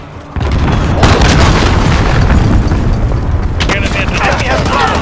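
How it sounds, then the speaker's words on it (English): An enemy cruise missile strike in Call of Duty: Modern Warfare lands as a loud, heavy boom. A rumbling blast and crackling debris follow for several seconds. "Enemy cruise missile."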